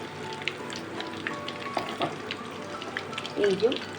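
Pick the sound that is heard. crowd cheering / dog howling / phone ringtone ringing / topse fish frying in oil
topse fish frying in oil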